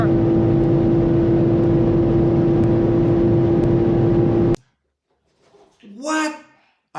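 BMW M3 sedan at very high speed, around 325, a loud, steady engine drone with a strong whine that cuts off abruptly, followed by a brief voice.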